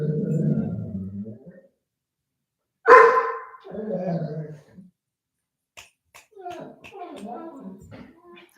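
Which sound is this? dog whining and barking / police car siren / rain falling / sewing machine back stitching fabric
dog whining and barking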